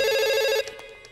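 A telephone ring tone sounds as a call is placed: a steady, buzzing electronic ring for about half a second that cuts off abruptly into faint background noise.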